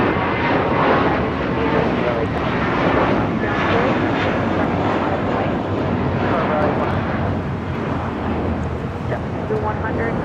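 A JetBlue Airways jet takes off from LAX bound for Fort Lauderdale, a loud sustained roar of engines filling the air steadily, with a voice speaking over it.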